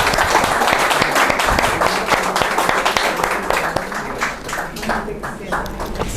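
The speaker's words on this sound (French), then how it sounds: "je vous demande d'applaudir Madame Tahura" An audience at a Persian poetry evening applauds a guest being welcomed, producing dense, steady clapping that fills the room for several seconds, with faint voices mixed in.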